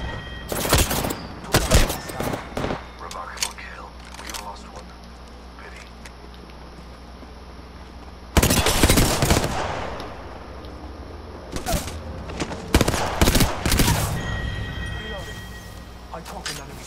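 Video game squad firefight with repeated bursts of gunfire, loud clusters of shots near the start, middle and end, spaced by quieter gaps, with voices calling out over the action.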